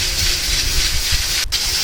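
A pressure cooker of chickpeas for chana masala releases a steady, close hiss of steam, broad and continuous, with a short dip just before the end.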